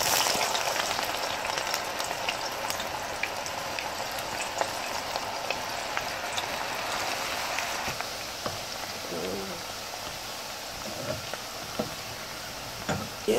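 Onions and tomatoes frying in a pan for a stew: a steady, dense sizzle with crackling spatter that runs unbroken from start to end, close up and with no talk.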